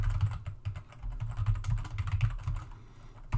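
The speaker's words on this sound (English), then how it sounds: "I'm failing at typing today." Rapid clicking on a computer keyboard during a C++ programming lecture, bursts of close, brisk keystrokes in an uneven rhythm with no voice over them.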